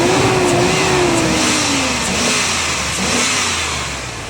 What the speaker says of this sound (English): I love revving up cars when they're cold.